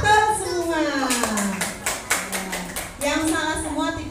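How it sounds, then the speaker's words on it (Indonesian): Schoolchildren clap their hands together in a class, a burst of quick, close, rhythmic claps mixed with children's voices and chatter. "tepuk tangan buat yang betul semua"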